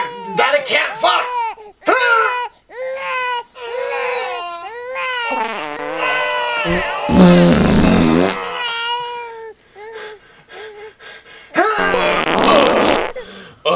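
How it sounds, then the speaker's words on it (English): A long, loud, sputtering fart rips out for a couple of seconds, set among exaggerated cartoonish voices and baby-like whimpers, with talking around it. "Oh, it's a good thing I finally farted."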